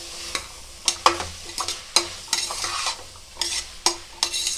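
Vegetables sauté in a hot pan for vegetable rice, a soft steady sizzle broken by repeated scraping stirs of a spoon, close and clear with no talking.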